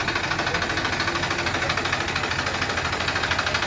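A tractor engine runs close by, a steady, rapid mechanical chugging with even pulses that holds constant throughout, with no voices over it.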